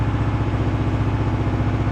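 The engine of a Woodland HM122 sawmill runs inside a shed, giving a loud, close, steady low-pitched chugging idle with a fast, even pulsing rhythm and no voices over it.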